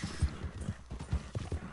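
Horse hooves clip-clopping in Red Dead Redemption 2, a steady soft rhythmic trot of muffled thuds, fairly quiet and continuous without talk over it.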